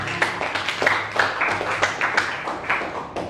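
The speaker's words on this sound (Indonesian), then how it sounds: "Beri tepuk tangan untuk kedua" A classroom group gives brief, faint applause for the second group, a loose patter of scattered handclaps with uneven rhythm.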